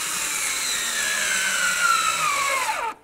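Two mounting screws for the tail light of a 2007-2017 Ford Expedition being driven in with a power driver, a steady close whirring drone that rises in pitch and stops abruptly near the end.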